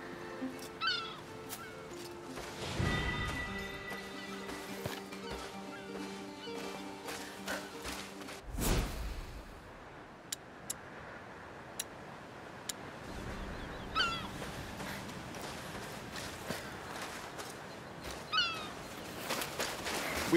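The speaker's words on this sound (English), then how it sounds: "We call them laughing gulls here." Laughing gulls cry in the video game A Plague Tale: Requiem, giving repeated harsh, raucous calls at moderate distance over a quiet outdoor ambience, with a few soft thumps and rustles in between and no talking.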